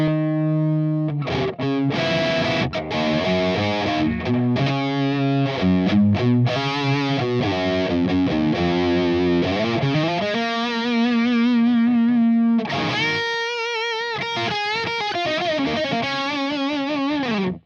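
A heavily distorted electric guitar plays chords and riffs through an overdriven Audio Assault Blacksun amp with high gain, gritty and sustained, with brief pauses and ringing notes.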